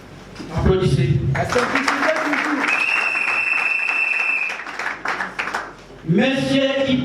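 Crowd applause at a political party meeting, a sustained wash of clapping in the middle with a steady tone above it, bracketed by spoken announcements at the start and end.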